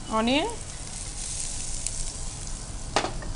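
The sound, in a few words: frying onion, ginger and garlic in a pan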